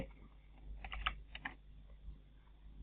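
A computer keyboard during CAD modeling work, with a few quiet, close key presses clustered in the middle, one slightly firmer tap standing out, over a low steady hum and no talking.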